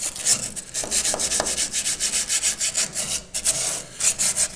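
A brush scrubs paint off the bodywork of a 1976 Simca 1100 under restoration, giving rhythmic, close, rasping back-and-forth strokes with a brief pause midway.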